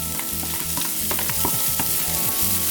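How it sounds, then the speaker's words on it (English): Mixed vegetables stir-fried in a pan for egg fried rice: a busy sizzle with repeated scraping and clattering stirring strokes, close and fairly loud, no voices. "I'm adding in some mixed veggies as well"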